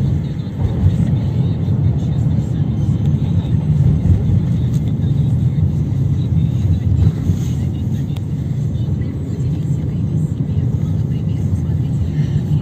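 A car crossing a bridge onto the Petrogradsky side of St. Petersburg in light early-morning traffic, a steady low engine and road rumble lasting the whole stretch at a constant level.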